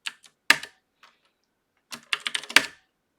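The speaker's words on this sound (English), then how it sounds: "Because I just have to bang away at my keyboard." Typing on a computer keyboard, close clattering keystrokes in two quick bursts separated by a short pause, sharp and loud with no talking.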